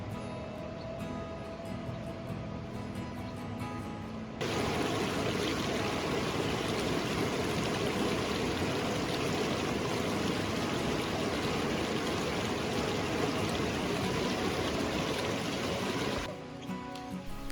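A river stream on the Langtang trek in the Nepal Himalaya rushes steadily and loudly, a broad constant wash of flowing water that swells in after a few seconds and holds without pause, with no voices.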